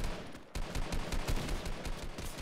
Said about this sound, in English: Oh, they're trying to shoot at me.